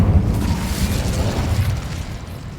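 A fire spell is cast in the Hogwarts Legacy video game, giving a short, dense burst of whooshing, roaring noise that fades quickly, with no speech over it.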